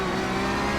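A Porsche Cup race car in the iRacing sim holds a loud, steady high-revving engine note at the Nürburgring Nordschleife, continuous and close with no speech.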